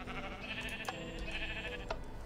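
Minecraft sheep bleating in a sheep farm on a Mindcrack server, a short run of nasal in-game bleats, close and clear, with a couple of sharp clicks mixed in.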